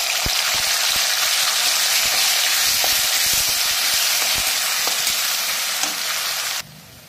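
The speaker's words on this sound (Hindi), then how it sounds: "इसमें हम टमाटर, मिर्च, अदरक और लहसुन का पेस्ट को हम डाल रहे हैं।" Tomato, chili, ginger and garlic paste sizzles hard in a hot pan over burnt tempering spices, a dense, steady frying hiss with small pops and a spoon stirring, close up, stopping abruptly near the end.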